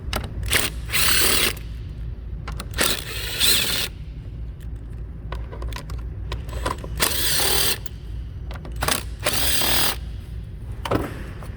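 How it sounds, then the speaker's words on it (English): A ratchet wrench on 7mm bolts of the electronic brake control module on a 2014 Chevrolet Equinox clicks in several loud bursts of rapid ratcheting, separated by quieter handling noises and small metallic taps. "you want to remove these bolts. Take them loose."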